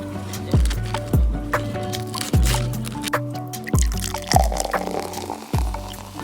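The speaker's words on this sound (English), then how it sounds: "pouring my drink over the cup of ice" A drink is poured over a cup of ice at a Korean convenience store, with repeated clinking and cracking knocks of ice as the liquid runs in steadily, close and fairly loud.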